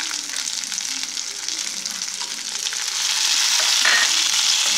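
Small onions and tomato sauté in a hot pan for karuveppilai chutney, giving a steady close sizzle that grows louder and denser toward the end, with occasional stirring scrapes and no voices.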